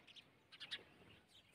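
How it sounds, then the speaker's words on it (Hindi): Birds chirping at sunrise in a village, a few faint, quick high tweets in short bursts against a quiet background. "ये देखें, हाय खूबसूरत चिड़ियों की चहचहाहट।"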